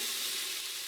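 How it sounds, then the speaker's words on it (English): Onions sizzling in a tablespoon of vegetable oil in a pot for chili, a steady close bright hiss with no talking over it. "Listen to that sizzle."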